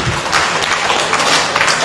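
Brief burst of audience clapping at a Filipino political speech, dense and loud for under two seconds, no speech over it.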